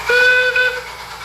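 A loud steam locomotive whistle blows in a single sustained, bright tone with a short break, then fades out.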